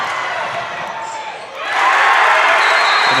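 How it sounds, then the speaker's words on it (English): A high school crowd cheers and roars at a boys' regional basketball game in Amery, swelling suddenly louder halfway through and staying loud and dense to the end. "Amery crowd is going nuts, and they should"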